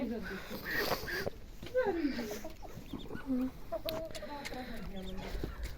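Chickens cluck and squawk nearby in short, irregular bursts, with a person talking over them at moments.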